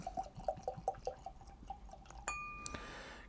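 Water poured into whisky glasses, a few light drips and trickles followed by a brief glassy clink and a short steady pour, quiet and close with no talking.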